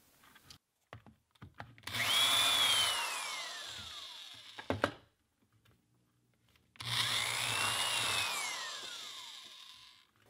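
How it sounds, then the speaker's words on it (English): A power drill bores a hole through a helmet for a caster stem, in two sustained whining bursts of a few seconds each with a descending pitch sweep, separated by a short quiet gap with faint knocks. "I have a drill bit the correct size for the stem on my"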